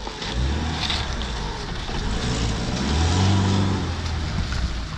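A vehicle, a quad or car, drives off with a steady low engine drone that swells louder toward the middle and stays close with no talking.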